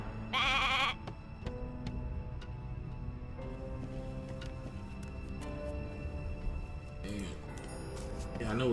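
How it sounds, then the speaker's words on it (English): Sheep bleating in the video game Divinity: Original Sin 2, a sharp bleat near the start followed later by another, over quiet game ambience with ticking sounds and someone talking at low volume. "Hey, a sheep!"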